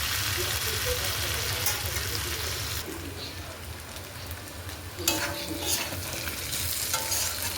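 Goat meat being slowly stir-fried in a pan, a steady dense sizzle with repeated spatula stirring and scraping throughout, close and continuous.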